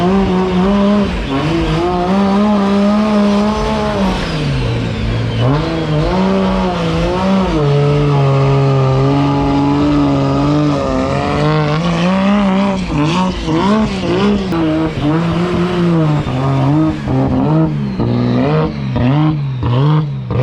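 A drift car at an F1 race weekend, its engine revving hard and continuously with shifting pitch, loud and close, with tire squeal woven through the sustained roar.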